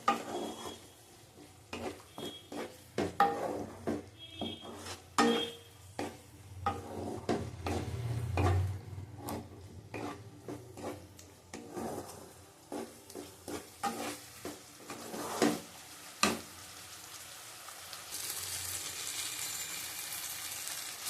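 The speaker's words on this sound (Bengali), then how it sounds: "ভালো করে কষিয়ে নেবো মশলাটাকে।" Spice paste is sautéed and stirred in a pan, with a soft sizzle underneath and scattered clinks and scrapes of a spoon against the metal, intermittent and close.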